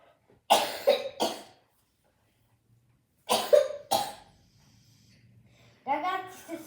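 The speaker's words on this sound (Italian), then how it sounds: "se sentite così vuol dire che ho un po' di tosse." Three bursts of harsh coughing, each a quick double cough, separated by quiet pauses, close to the listener; a voice begins speaking at the end.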